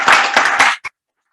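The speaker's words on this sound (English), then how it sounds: "I think we should give them another round of applause" A short burst of applause at a press briefing for the Africa Food Prize, loud, close clapping for under a second that ends with one final clap and then silence.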